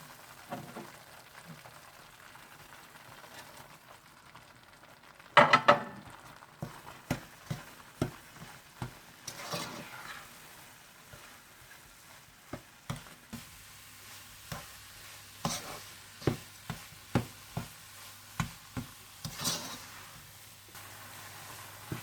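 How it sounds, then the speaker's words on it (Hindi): A spoon scrapes and stirs gram lentil halwa with sugar in a pan, a quiet sizzle underneath and a steady run of sharp clicks and taps against the pan, growing busier after a loud knock partway through. "जब दाल अच्छी तरह से भुन जाए तो आप इसमें चीनी डालकर अच्छी तरह से मिक्स कर लें"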